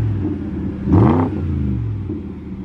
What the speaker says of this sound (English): So the exhaust sounds good already on it.